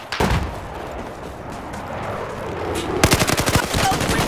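Gunfire in the video game Battlefield 4: a sharp shot opens, then a tense lull, then a rapid burst of automatic fire with tightly spaced, loud reports.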